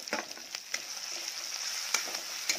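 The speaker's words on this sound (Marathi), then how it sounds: "हे लसूण तेलामध्ये लसूण टाकायचंय आणि ही मिरची भी टाकायची तेलामध्ये" Garlic and green chili fry in hot oil in a kadhai, a steady close sizzle with occasional sharper crackles and stirring scrapes.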